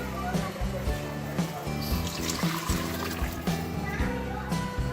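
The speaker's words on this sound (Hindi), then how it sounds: "ये पानी अब हम इसमें डाल देंगे।" Water pours into a pot of chicken mandi, a close, continuous splashing trickle with uneven gurgles, while a low tonal hum runs faintly underneath.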